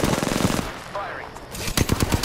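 Rapid automatic gunfire in Apex Legends, close and loud: a burst of quick regular shots, a short pause with faint game sounds, then another hard burst of fire.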